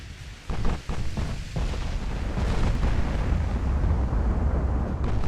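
Torpedo hits rumble against a ship in the naval strategy game Ultimate Admiral Dreadnoughts, opening with a sharp boom followed by a long, heavy low roar of explosions and fire.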